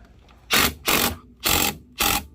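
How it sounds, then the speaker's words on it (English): A 1/4 inch impact driver with a 1/2 inch socket, working on a Polaris Trail Blazer 250 transmission, rattles out four short, loud, evenly spaced hammering bursts close to the mic. "This is 1/4 inch impact with a 1/2 inch socket."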